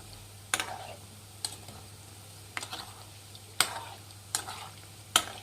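Radish manchuri frying in a pan on a medium flame and being turned: sharp, separate spatula clicks and scrapes about once a second over a low, steady sizzle, close by, with no talking.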